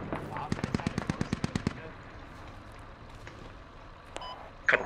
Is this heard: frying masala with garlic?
no